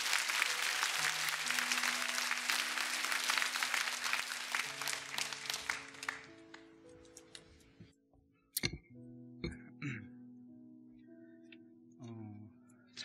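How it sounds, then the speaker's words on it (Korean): Church congregation applause welcoming a young man to give testimony, dense clapping that gradually thins out and gives way to soft piano notes and a few scattered sounds. "큰 박수로 좀 격려해 주시면"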